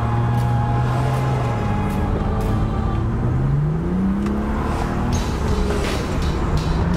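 A twin-turbo 2009 BMW 335i with 130,000 miles accelerates under load, its steady engine drone rising in pitch as it revs up through the gears, loud and continuous from inside the car.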